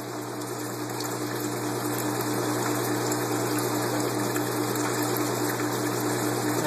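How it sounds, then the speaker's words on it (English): Water drains steadily from an aquaponics flood and drain grow bed in an indoor fish room, a continuous loud gushing rush mixed with a pump hum and no talking. "And there goes the drain."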